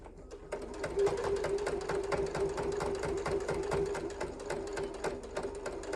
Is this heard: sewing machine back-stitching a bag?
yes